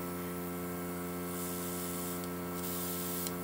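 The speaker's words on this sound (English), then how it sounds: "I'm just going to put 2 drops in and spray it onto my tissue." An airbrush sprays peach pink blush onto a tissue, producing a steady, close hiss that brightens slightly partway through over a constant motor hum.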